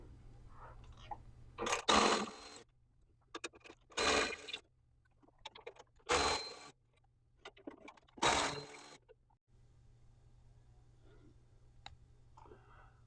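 Ratcheting clicks from a tool loosening 14 mm skid plate bolts, in four loud separate bursts about two seconds apart, with quieter clinks between them over a low steady hum.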